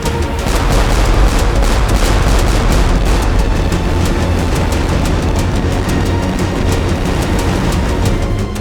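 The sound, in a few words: cannon fire from French warships in a naval battle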